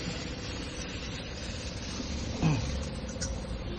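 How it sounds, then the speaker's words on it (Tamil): Water pump running smoothly: a steady, low, even mechanical hum at moderate distance, with no knocks or surges. "பம்ப் ரன்னிங் ஆயிடுச்சு."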